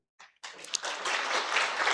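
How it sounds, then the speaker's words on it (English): A short burst of sound cuts off, then a conference panel audience on global governance and UN reform breaks into applause that swells quickly and holds loud and continuous to the end. "I want everyone to clap for you"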